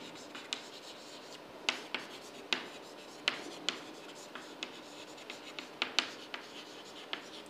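Marker or chalk strokes on a board during a database lecture come as quick scratchy taps and squeaks in irregular bursts, fairly close and faint, with no speech over them.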